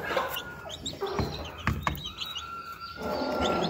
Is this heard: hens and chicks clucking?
yes